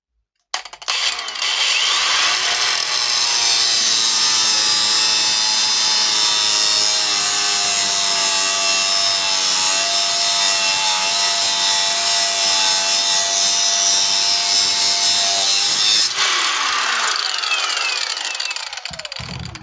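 A steady, loud abrasive whine of metal being cut as a ring is sized for a lathe tailstock, sustained for about fifteen seconds with a slight shift in pitch, then tapering off, with no speech.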